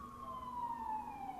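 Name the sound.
distant ambulance siren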